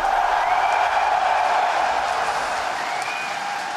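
A large esports arena crowd at a Dota 2 ESL One Birmingham quarterfinal cheers for a team in a dense, continuous roar of voices and applause that holds steady and eases slightly toward the end.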